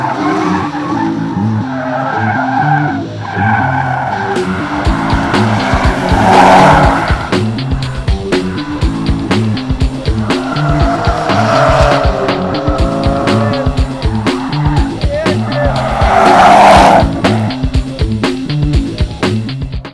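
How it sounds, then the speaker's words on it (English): A D1 Grand Prix drift car skids hard with loud, sustained tire squeal and roaring engine throughout, rising to sharper screeching peaks twice, with a faint voice briefly audible underneath. "Let the drifting mayhem begin."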